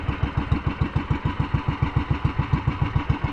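A fishing boat engine runs steadily at close range, giving a loud, even, rapid chugging thump with no voices over it.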